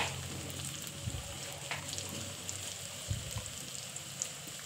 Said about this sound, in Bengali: এবার দেখেন একটু লাল লাল করে ভেজে নিয়েছি।